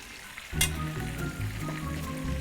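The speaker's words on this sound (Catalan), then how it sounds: "Ara ho flambejarem a birranci" A roast of meats for a festive Catalan rostit sizzles and fries loudly in a pan while being flambéed, a sudden hiss at the start settling into steady crackling.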